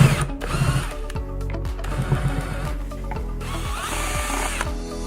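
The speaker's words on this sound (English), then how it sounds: "Now we're going to drill 2 holes into the plastic lid." A power drill whirs in bursts, boring holes into a thin plastic lid with a rough grinding buzz, pausing and restarting several times up close.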